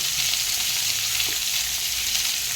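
Steady, close sizzling of fish frying in hot oil, a constant crackling hiss with no talking.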